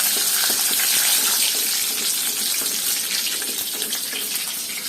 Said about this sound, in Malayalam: അതൊന്ന് പതുക്കെ വഴറ്റാം